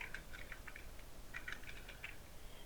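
Light, quick keystrokes on a computer keyboard entering text into a PDF form box, faint and close, in two short bursts over a soft background hiss.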